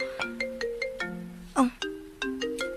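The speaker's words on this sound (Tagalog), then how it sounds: "Kinsa man derong cellphone na may bagting." A cellphone ringtone plays a bright, rapid electronic melody of short chiming notes in a repeating pattern, loud and close, with a brief extra burst partway through.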